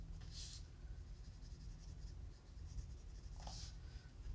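A Deco Peach colored pencil scratches lightly across paper in two brief bursts of strokes, near and soft, separated by quiet pauses over a steady low background hum.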